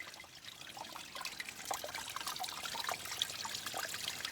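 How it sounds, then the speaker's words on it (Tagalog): Spring water trickling steadily out of the soil at a water source near a waterfall, a soft continuous dribbling with small splashy accents, fairly quiet and close, no talking. "The water is coming from the soil."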